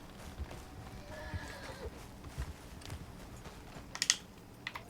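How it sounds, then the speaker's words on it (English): Faint, steady hoofbeats come from a horse being ridden in Red Dead Redemption 2, mixed with low game ambience and a few sharp keyboard clicks near the end. "Let me get back on my horse."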